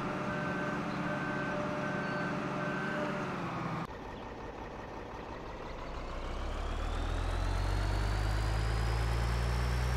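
A farm vehicle in Farming Simulator 13 reverses, its evenly spaced backup beeps sounding over a steady engine drone. The beeping stops partway through as the engine note shifts and grows heavier and louder.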